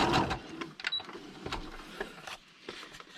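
A sewing machine runs a straight stitch through paper in a short close burst, quick soft needle taps with brief pauses, fairly quiet and with no voices.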